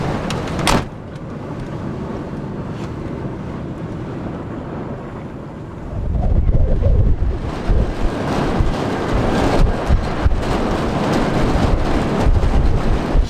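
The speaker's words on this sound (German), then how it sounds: "Ganz schön windig hier!" Strong wind on the Argentina–Chile border buffets a nearby microphone, a steady rush that suddenly grows into loud, gusty roaring for the second half.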